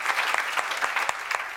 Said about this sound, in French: Vous pouvez les applaudir bien sûr, tous les deux et tous les autres candidats.